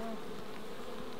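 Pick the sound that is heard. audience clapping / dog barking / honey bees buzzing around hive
honey bees buzzing around hive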